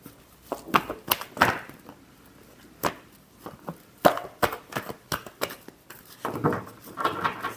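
Tarot cards shuffled by hand during a reading, giving sharp, irregular riffles and slaps close up, some louder than others, with no speech.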